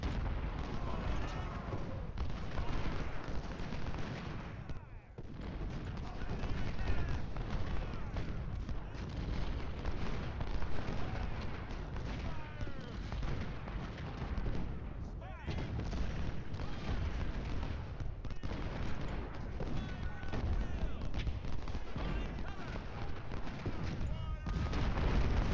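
Cannon and rifle fire from a Civil War battle at Laurel Hill in Ultimate General: Civil War, heard as a steady dense roar of booms and crackling volleys that runs without a break, with a voice talking over parts of it.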